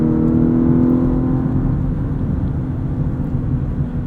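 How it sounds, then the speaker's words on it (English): A 2018 Lexus LS 500 RWD with a 10-speed automatic, in Sport Sharp mode, holds a sustained engine drone at high revs, a steady loud hum with road rumble heard from inside the cabin, no talking. "In Sport Sharp, it really lets the revs hang up there."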